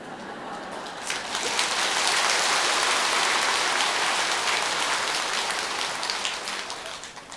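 A crowd claps at a Buddhist dharma assembly at Tongdosa temple, building quickly to a dense, sustained applause that holds for several seconds before thinning slightly at the end.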